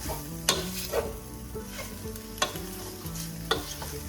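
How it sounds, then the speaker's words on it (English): Meat, noodles and onions being stirred in a frying pan, soft sizzling broken by several sharp scrapes and clacks of a utensil against the pan at irregular intervals, no talk. "I'm gonna go ahead and throw the meat in with the noodles"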